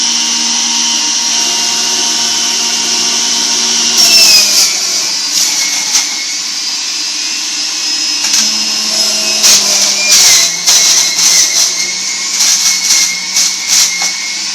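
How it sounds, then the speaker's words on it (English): A Breville juicer runs with a steady high motor whine, punctuated by bursts of grinding as produce is pushed through, loud and close with no voices. "So now we're going to go ahead and juice. So turn it on."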